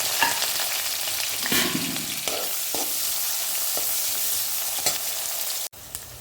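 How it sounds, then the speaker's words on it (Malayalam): Green chilies and chopped onion hit hot oil with mustard seeds, giving a steady close sizzle with a few stirring scrapes, ending in a brief cut-off near the end. "നമ്മൾ അരിഞ്ഞു വെച്ചിരിക്കുന്ന സവാള ഇതൊക്കെ ഉണ്ടല്ലോ അതിലേക്ക് ഇട്ട് കൊടുക്കാം"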